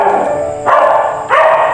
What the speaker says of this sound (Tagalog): Ingay na naman ng aso.